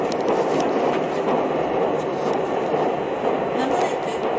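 Aboard a Tobu 200 series Ryomo limited express crossing the Tone River into Saitama, the train gives a steady, close interior rumble of wheels and running gear without a break.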